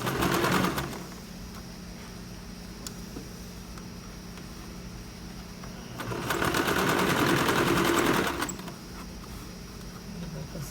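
A sewing machine stitches a shirt collar, whirring in two bursts, one short at the start and a longer run later, with quieter handling noise between them and no talk.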